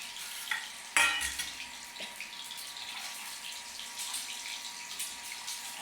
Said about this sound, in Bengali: ছোট্ট কড়াই এই জন্য অল্প অল্প করেই ভাজছি